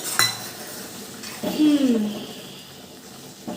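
A lid settles onto a pot of cauliflower curry with a single short metallic clank, followed by a brief voice and quiet kitchen background.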